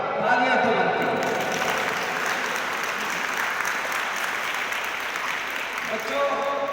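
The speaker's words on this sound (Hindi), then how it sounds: "एक बार तालियां तो बनती हैं" Sustained applause from a large school audience, dense and steady clapping throughout, with some cheering voices mixed in.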